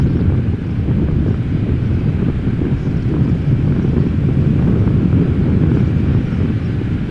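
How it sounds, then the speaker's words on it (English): A Boeing 737 approaching Amsterdam Schiphol Airport makes a steady, loud, broadband roar that stays even throughout, mixed with wind buffeting on the microphone. "I'm hearing"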